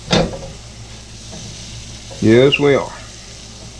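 Shrimp, vegetables and ramen noodles are stir-fried in a pan, a steady close sizzle with a scraping stir at the start, while a person speaks briefly over it.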